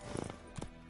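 Roach the horse gallops in The Witcher game, hooves clip-clopping in a quick uneven run of close, fairly loud thuds.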